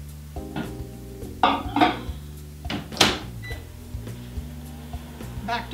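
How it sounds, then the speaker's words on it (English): A microwave oven hums steadily while melting butter for chocolate fudge, and irregular clunks and kitchen clatter break in over the low drone. "I'm going to take it out of the microwave now"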